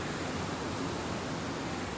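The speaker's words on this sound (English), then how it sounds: "You might not be able to hear us because of the waves." Ocean waves washing on a shore, a constant broadband hiss of surf filling the whole clip at moderate level, no voices.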